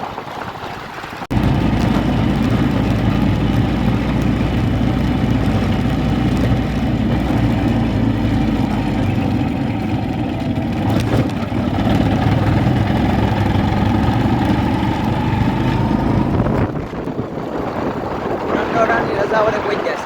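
A motorbike engine hums steadily and loudly while riding slowly along a road to Dhudhsar, a continuous close drone that drops off briefly near the end.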